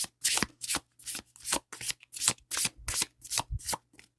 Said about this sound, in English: They shuffle really nice.